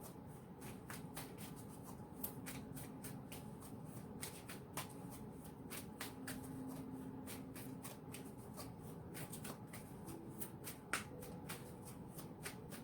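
Tarot cards are shuffled by hand in a quiet room, a steady run of soft, crisp riffling flicks close to the listener, faint and continuous, with no talk.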